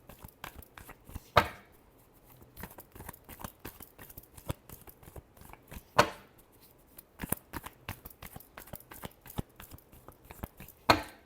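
Tarot cards are shuffled by hand in a quiet room, giving a run of soft papery riffles and taps, with a few sharper snaps standing out now and then.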